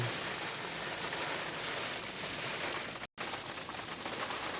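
Steady rain falls with a dense, even hiss, broken by one brief moment of silence partway through.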